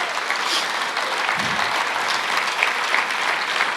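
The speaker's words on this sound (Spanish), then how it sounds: "Dele un aplauso al Señor." Congregation applause during a church sermon, a continuous, broad roar of many hands clapping at even loudness throughout, with no voices over it.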